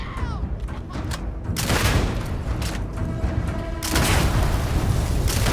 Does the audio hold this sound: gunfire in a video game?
yes